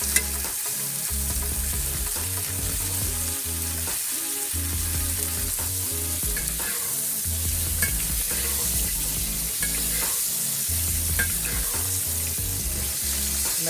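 Pork chops searing in a hot pan, a loud steady sizzle and crackle running throughout, close and continuous with no voices.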